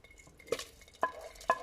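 Soft scraping of a spoon stirring seasoning into a pot of feijoada, with a few light metallic clinks against the side, quiet and close.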